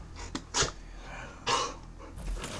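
A dog pants and huffs in a few short, sharp bursts close by, with quiet gaps between them and no talking.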